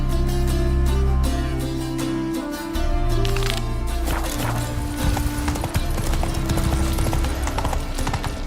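Horse hooves clip-clop steadily on the ground in The Witcher 3 video game, set within a dense layer of music and ambient game sound with a brief whinny.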